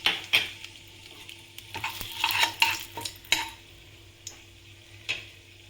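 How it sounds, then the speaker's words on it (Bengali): Whole bay leaf, cardamom, cinnamon and dried chilli frying in oil for a cauliflower roast, a quiet sizzle broken by sharp scraping stirs and clicks of a spoon against the pan, close and without talk. "ওই তেলেই আমি আরেকটু তেল দিয়েছি, দিয়ে আমি এই ফোড়নের তেজপাতা, এলাচ, দারচিনি আর শুকনো লঙ্কাটা দিয়ে দিলাম।"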